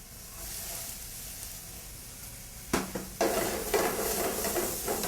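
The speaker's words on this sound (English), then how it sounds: "we're going to saute up some onions" Onions and celery sauté in butter in a moderately hot pan, a soft steady sizzle that swells louder partway through as the vegetables are stirred and tossed, with light utensil scrapes close by.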